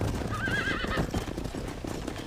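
A horse in Red Dead Redemption trots and whinnies while herding cows, with rhythmic hoofbeats and a short wavering neigh near the start, set against steady game ambience.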